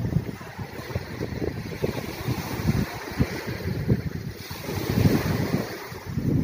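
Surf rolls onto a beach near Buena Vista in a continuous wash of breaking waves, with steady wind buffeting the microphone and occasional louder surges.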